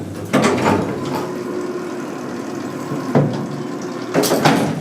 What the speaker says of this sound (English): press the door open button